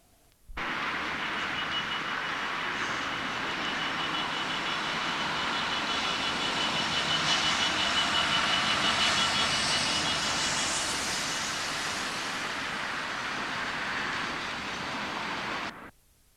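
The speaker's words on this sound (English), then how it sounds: "a coal train heads north" A coal train pulls north out of Belmont Down Yard near Doncaster, a steady broad rumble and roar that rises, holds for about fifteen seconds and then cuts off, heard from a road bridge without voices.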